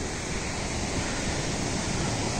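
Waterfall at Shikhar Fall near Dehradun, a steady, loud broadband rush of falling water that fills the whole moment without pause and without any voices.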